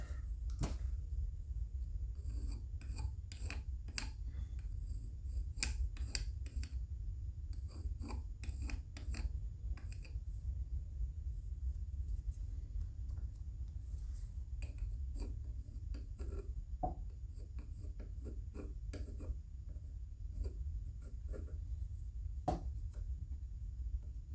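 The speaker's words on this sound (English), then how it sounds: "I'm just back dragging a carbide scraper across that edge." Carbide scraper dragged back along the edge of a Stihl MS391 chainsaw piston with a burr, giving faint, repeated scratchy scraping strokes over a low steady background hum, with no talking.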